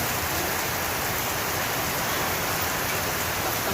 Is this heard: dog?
no